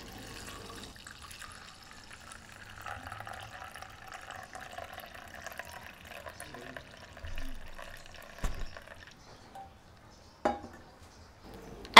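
Lukewarm milk is poured into a container to make yogurt, a faint steady trickle of liquid that fades out, followed by a few soft clinks and knocks of the container nearby.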